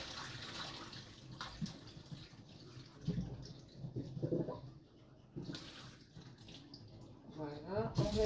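Potatoes are washed in water for a tartiflette, with soft splashing and running water close by, intermittent and fairly quiet, while someone talks over it.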